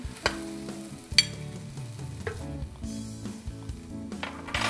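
Johnsonville flame grilled chicken heating in a pan with a little water, giving a low steady sizzle and simmer with a few sharp clinks of a utensil against the pan, close up and without talk.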